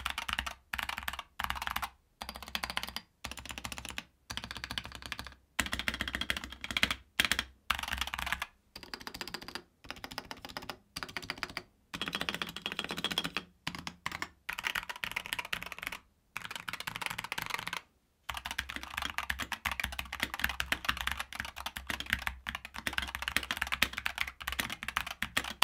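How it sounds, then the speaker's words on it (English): Rapid typing on NZXT gaming keyboards, a dense run of close clicky keystrokes with brief pauses between bursts, steady and alone in a quiet room. "now you can hear the difference of that to the sounds of the keyboards"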